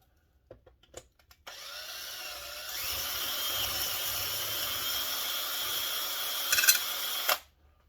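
A power drill with a bit bores freehand into a part of a McCulloch 790 MC101 chainsaw, a steady high whine running about six seconds after a few taps, then cutting off abruptly.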